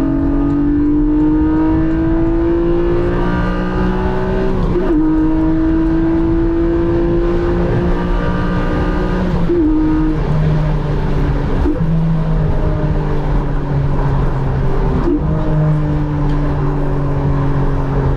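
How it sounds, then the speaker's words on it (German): Porsche 718 Boxster GTS with its naturally aspirated 4.0 engine, manual gearbox, pulling steady loud engine tone as revs climb, with several sharp auto-blip throttle bursts on downshifts at roughly 5, 10, 12 and 15 seconds. "diese Autoblip-Funktion beim Runterschalten ist natürlich einfach nur amüsant"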